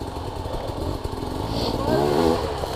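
A dirt bike engine revs up as it launches, a rough buzzing drone that rises in pitch and loudness toward the end, heard close by.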